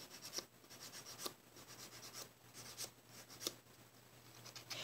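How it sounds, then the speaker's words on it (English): Light rubbing and buffing of glue off a fingernail with a cheap Dollar Tree buffer, soft repeated scratchy strokes at close range, alone with no talk. "So simply just rub that off, buff off any of the glue"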